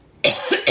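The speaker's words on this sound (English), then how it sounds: "this is interesting that I have this cough coming up" A sudden, loud, close cough in two or three harsh bursts after a brief quiet moment.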